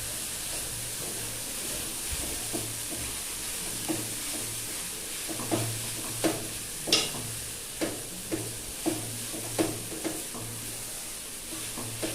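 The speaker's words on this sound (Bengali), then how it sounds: "গাজরটাকে কিন্তু ঘিয়ের ভিতর নেড়ে ছেড়ে বেশ ভালো করে একটু ভেজে নিলাম" Grated carrots stirred and fried in ghee for gajar halwa: a low steady sizzle with regular spatula scrapes against the pan, growing more frequent and rhythmic in the second half, close up with no talking.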